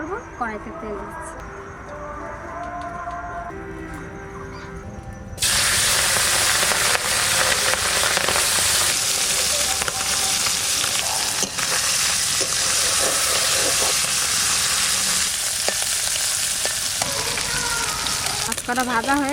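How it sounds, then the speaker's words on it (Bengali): Desi tengra fish drop into hot oil in a wok, a sudden loud, dense sizzle that bursts in after a quieter stretch with a faint voice and then hisses on steadily, close up. "মাছটা ভাজা করব, কড়াইতে তেল দিচ্ছি।"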